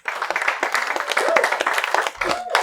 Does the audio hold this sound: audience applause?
yes